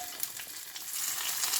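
A mustard seed tempering poured onto a simmering fish curry makes a continuous, close hissing sizzle with light crackles, slightly louder toward the end.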